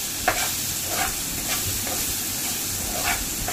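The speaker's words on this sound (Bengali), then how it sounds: "চিকেনের টুকরোগুলোকে ভালো করে নেড়ে নরম হওয়া পর্যন্ত রান্নাটা করে নিতে হবে।" Chicken pieces frying in a pan with a steady close sizzle, broken by several soft scraping stirs of a spatula at irregular intervals, no voices.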